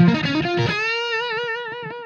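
Electric guitar driven through an overdrive pedal into an amplifier, a few quick distorted notes giving way to a sustained, wavering held note that rings out loud and close with no talking.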